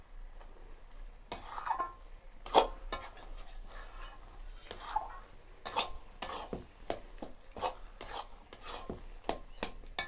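A thick sweet, sour and spicy tamarind pickle is stirred in a pan with frequent spoon strokes, giving quiet, regular scrapes and light clinks over a faint simmering sizzle.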